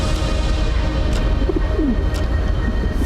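A pigeon on snow near Amarnath gives a couple of soft, low coos midway, faint against a steady background hiss of open mountain air.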